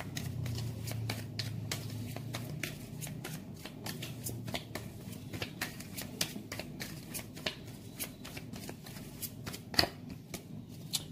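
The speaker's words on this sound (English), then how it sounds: "one card for that," Tarot cards are shuffled by hand during a love reading, a steady riffling patter of card edges that runs for about eleven seconds, close and fairly soft, with no talk.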